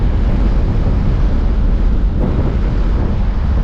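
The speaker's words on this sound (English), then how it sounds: "It's windy as hell today." Strong gusts buffet the microphone in a steady, loud roar of wind noise while riding in a 1974 convertible Chevrolet Caprice barn find, continuous throughout with no voices.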